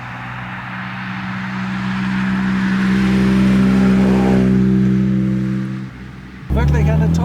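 A 1956 Jaguar XK 140 engine pulls hard under acceleration, its steady harmonic drone rising and swelling before easing off near the end, followed by a short burst of speech.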